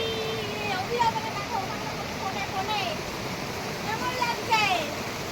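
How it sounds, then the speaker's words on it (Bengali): A waterfall near a rocky path gives off a steady, continuous rushing hiss that fills the background at moderate loudness. People talk over it throughout. "ঝর্ণার আওয়াজ পাচ্ছ তোমরা?"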